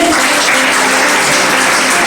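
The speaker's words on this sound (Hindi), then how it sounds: "तालियां रुकनी नहीं चाहिए, तालियां बजाइए।" Loud, steady applause from a large crowd at a school award function fills the whole moment without a break.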